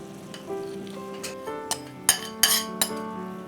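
Cashew powder is stirred into hot sugar syrup in a pan, with a spoon scraping and clinking against the metal several times over a soft sizzle, the clinks growing louder toward the end.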